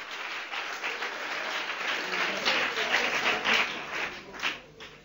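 A congregation at a church service applauding, a dense wash of clapping that rises and falls over several seconds, with a few voices mixed in.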